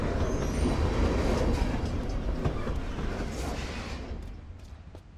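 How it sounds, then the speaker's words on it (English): Train passing by in the Life is Strange video game, a loud rumbling roll of rail cars with faint squeals that gradually fades as it moves away, no talk over it. "Trains actually go by and all."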